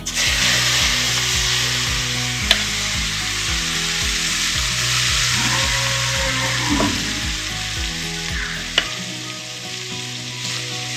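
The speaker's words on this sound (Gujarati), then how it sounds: "પછી હિંગ, હળદર અને મરચાંનો વઘાર કરી લીલી ડુંગળી અને લીલું લસણ." A loud, continuous sizzle of cumin, asafoetida, turmeric and chili tempering in hot oil, then green onion and green garlic added, with a low rhythmic hum beneath and a couple of sharp knocks from a utensil.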